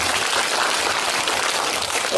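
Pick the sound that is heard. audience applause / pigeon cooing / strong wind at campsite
audience applause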